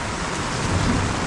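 Heavy rain pours steadily during a typhoon at a townhouse construction site, a dense, loud, continuous hiss of downpour with a low rumbling undertone and no voices.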